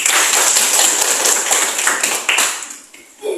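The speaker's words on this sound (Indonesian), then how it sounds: "tepuk tangan dulu" A classroom of students claps together, a bright busy patter of many hands that fades out after about three seconds.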